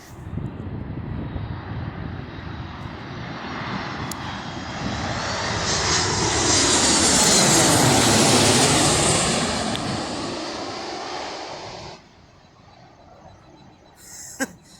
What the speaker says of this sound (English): No surprise at all. Another 737. It's coming right up.